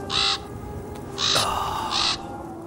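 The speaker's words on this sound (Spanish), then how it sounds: "Buenos días, bonito cuervo." A crow caws three times, loud and close, harsh repeated calls spaced evenly over a steady outdoor background, with no voices.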